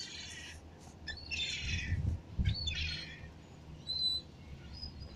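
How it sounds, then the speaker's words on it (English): Seagulls squawk in a garden, several harsh calls in short bursts, fairly close and loud over a steady low rumble of background noise. "we have 4 birds in the garden!"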